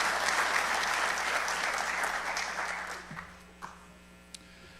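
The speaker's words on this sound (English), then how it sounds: "we applaud him as our Employee of the Year in the Fire Prevention Bureau" Audience applause for a Fire Prevention Bureau employee of the year at a county fire department awards ceremony, steady clapping that fades out, leaving a few scattered claps and room hum.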